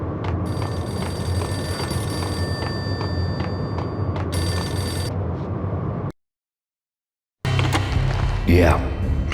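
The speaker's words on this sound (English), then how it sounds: "payphone started to ring." A payphone in the Max Payne video game rings in a steady, repeating electronic trill over a dense background ambience, breaking off into a brief silence before the scene resumes with a sweeping tone.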